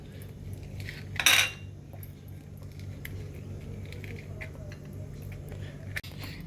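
A metal spoon scrapes and scoops soft avocado flesh from the skin, with one sharp, close clink and a few light scrapes over a quiet kitchen hum.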